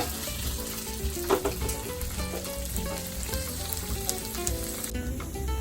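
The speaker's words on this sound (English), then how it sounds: "cook on medium flame till down it doesn't turn brown. Our noodles have become nice and crispy" Noodles pan frying in oil over a medium flame until crispy, a soft continuous sizzle with scattered crackles and faint clinks of tossing, fairly quiet and without speech.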